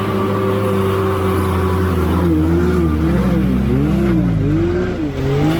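A homemade 4x4 buggy engine howls loudly and continuously under racing, its revs rising and dipping in quick waves as it drives hard off-road, close and alone.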